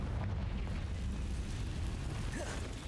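Fiery blast from the Confringo spell in Hogwarts Legacy, a roaring explosive rumble that stays loud throughout and is heavily layered with game noise.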